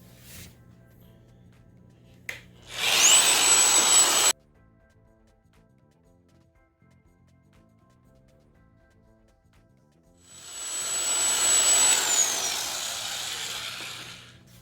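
A lapidary polishing machine running a 1500 grit disc at speed 2.5 gives a short loud burst of whirring grind, then a quiet pause, then a longer spell of hissing abrasion with a thin high whine that slowly fades.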